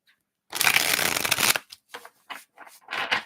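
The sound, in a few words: shuffling a deck of reading cards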